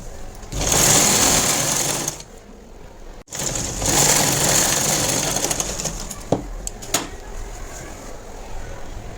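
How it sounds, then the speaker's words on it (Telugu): Sewing machine stitching a straight seam on a plain blouse, running loud and close in two long bursts with a brief pause between, followed by quieter handling sounds and faint background noise. "అలా కట్ మీద నుంచి స్ట్రైట్గా స్టిచ్ అనేది వేసుకోవాలి"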